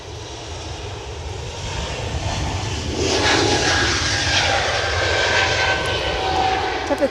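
An Air France jet taxiing at Edinburgh Airport on a windy day, a steady broadband engine roar that swells louder midway and holds, with wind noise beneath.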